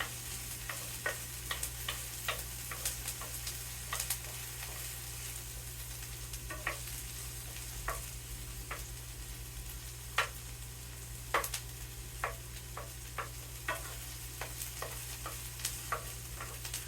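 Onions and potatoes sizzling steadily in a hot pan, with a constant low hum and scattered sharp clicks and scrapes of stirring.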